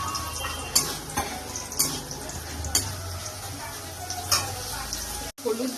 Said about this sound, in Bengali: তেল গরম হয়ে গেছে, বেগুনটা ভেজে দেবো।